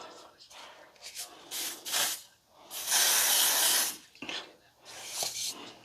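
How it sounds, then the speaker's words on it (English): An aerosol hairspray can hisses in several bursts, the longest and loudest lasting about a second, with short spritzes before and after, close to the mic. "This thing is like spraying straight up."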